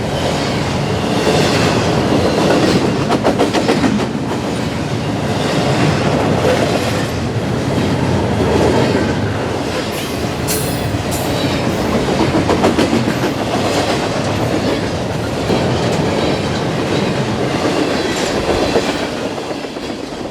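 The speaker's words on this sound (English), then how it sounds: "westbound double stack and mixed manifest train bound for Harrisburg's Rutherford Yard." A long Norfolk Southern westbound double-stack and mixed manifest freight train rolls past close by in Virginia, loud and unbroken, wheels clattering rhythmically on the rails with an occasional brief squeal.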